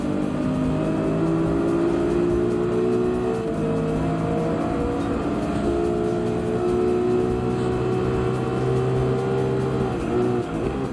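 A Subaru BRZ race car in Gran Turismo 7, driven in rain at Dragon Trail Gardens, hums with a steady engine drone. Its pitch rises and shifts through gear changes with no talk over it.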